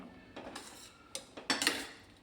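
Rajma masala being stirred in a pot after crushed kasuri methi goes in, giving a few light spoon-against-metal clinks and scrapes that grow busier toward the end, fairly close and with no talking.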